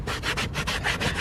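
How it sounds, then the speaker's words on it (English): A brush scrubs plastic trim inside a BMW E46, giving rapid rhythmic scratchy strokes, about eight back-and-forth passes close up and fairly loud with no talking. "I'm gonna go through and scrub all this plastic."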